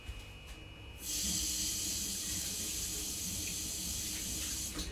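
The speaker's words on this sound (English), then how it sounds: "I'm just going to wash my hands and come back" Kitchen tap turns on and water runs steadily into a sink while hands are washed, a close, continuous hiss after a quiet second, with no talk.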